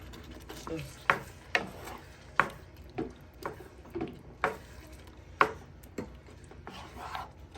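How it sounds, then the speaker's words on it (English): A tomato pasta sauce being whisked in a bowl or pan, a series of repeated scraping strokes with light clinks at an uneven rhythm, loud and close, with a voice talking in between. "We just have to whisk so that I can cook with this."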